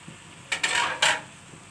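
Fried rice being tossed with green onions in a pan, a few quick scraping clinks of a spoon against metal in short bursts, close and fairly loud, with quiet pauses between.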